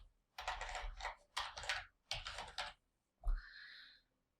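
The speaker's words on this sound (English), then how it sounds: "if you type pickles here and click enter" Computer keyboard typing in several quick bursts of clattering keystrokes, ending with a single firmer key press, close and fairly quiet with no talking.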